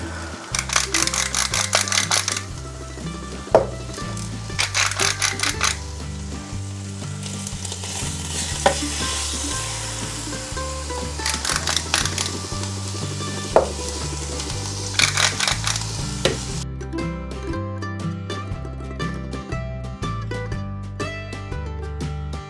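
Lamb shank searing on high in a Ninja Foodi multicooker on its sear/sauté setting: a steady sizzle and frying crackle runs throughout, with occasional sharp pops, mixed under background music.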